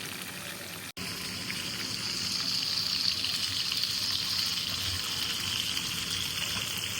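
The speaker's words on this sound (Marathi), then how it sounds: "मस्त मी फ्राय केलं बघा बोईस फ्राय होतं आपले मस्त बोईस फ्राय" Fresh creek-caught bois fish frying in a pan gives a steady, soft sizzling hiss that follows a brief click near the start, fairly quiet, with no talking.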